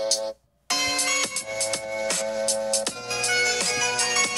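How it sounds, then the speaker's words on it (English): Music plays through an iPhone's built-in speaker in pop mode, starting with a short burst, then a brief dropout, then a steady tune with clear plucked or struck notes and a thin phone-speaker tone. "I'm just gonna play it on the iPhone here just for a comparison."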